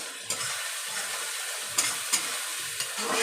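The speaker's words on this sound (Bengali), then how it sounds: "ভালো করে কষাবো।" Fish and potato curry sautéing in a pan, a steady close frying hiss broken by a few clicks and scrapes of a spoon stirring, with no one talking.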